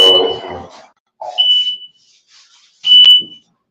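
A smoke alarm gives sharp, high-pitched electronic chirps, a short one and then a longer, louder one, between bits of nearby talk.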